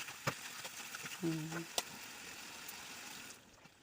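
Pre-fried flat beans tipped into an oily spice masala in a pan give a steady broadband sizzle with a few scrapes and clinks, then the frying settles and tails off toward the end.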